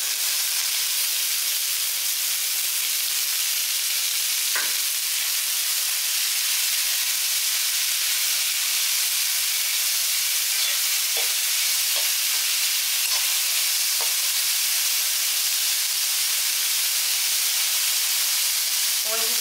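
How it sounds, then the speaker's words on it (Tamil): Onions and sprouted legumes (kaanapayaru, horse gram sprouts) sautéing in a little oil give a steady, fairly loud sizzle and hiss throughout, with a few faint scraping stir strokes near the middle and end; no talk. "கொஞ்சம் எண்ணெயிலே இப்படி வதக்கி விடுங்க."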